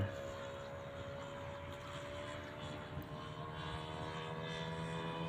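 A radio-controlled Sporter model airplane with an OS 95 four-stroke engine drones steadily at a distance, a continuous buzzing hum with a faint rise and fall as it flies.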